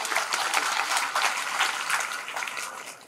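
An audience at a Shrimad Bhagwat Katha claps in a dense, steady burst of applause that carries on throughout.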